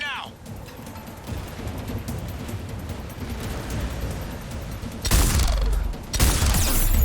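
Gunfire in the video game Mass Effect 3, a steady rattle of shots under voices that swells into two loud, close bursts near the end.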